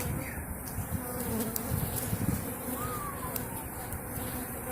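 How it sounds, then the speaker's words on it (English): Loud, agitated buzzing of honeybees swarming close by at a rooftop apiary, rising and falling continuously with sharp passes, a faint voice barely present underneath. "These bees are big dog. They are going after my phone and me."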